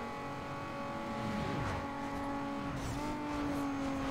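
Street racing car engine roaring at around 280 km/h in Need for Speed Underground 2, a steady high-pitched drone with a brief rising sweep midway, no talking.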